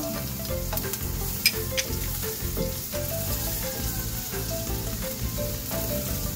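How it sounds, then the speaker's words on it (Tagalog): Chopped ginger sautés in hot oil in a pan for garlic fried rice, giving a loud, continuous sizzle with occasional stirring scrapes close by and no one talking. "Igisa na po natin ang ating luya."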